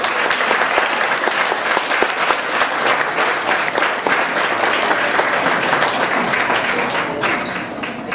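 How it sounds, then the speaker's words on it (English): A school audience at a Hispanic Heritage Month event breaks into loud, dense applause, many hands clapping steadily for several seconds before easing off slightly at the end. "So please give them a round of applause."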